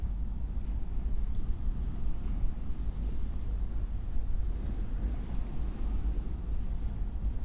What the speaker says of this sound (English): that's the ocean, moonlight, and slight breezes.